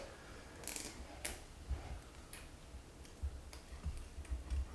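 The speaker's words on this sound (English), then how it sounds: "There's a bump on the plate that grinds on these teeth. That makes a clicking noise." A bump on a shear sharpener plate grinding against the scissor teeth at a salon, making faint, sparse clicks at irregular intervals over a quiet hiss.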